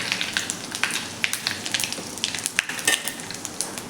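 Mustard seeds, cumin and asafoetida sizzle and crackle in hot oil for a Marathi-style matki usal, giving close, busy frying with sharp pops scattered throughout and no voices.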